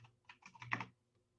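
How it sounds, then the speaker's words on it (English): A short run of keystrokes on a computer keyboard, quiet clicks in quick uneven succession lasting under a second. "So let me type this for you"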